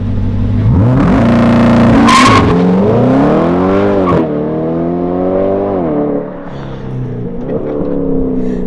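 A Chevrolet Corvette C8's LT V8 engine with a custom exhaust revs hard and loud, pitch sweeping up and down through several throttle blips with a rumbling exhaust, close by.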